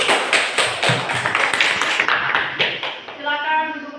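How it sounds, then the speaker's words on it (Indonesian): Students in a classroom clap for the first group after its presentation, a loud run of rhythmic, fairly unified claps that thins out, with voices and someone speaking near the end. "Tepuk tangan dulu untuk kelompok 1."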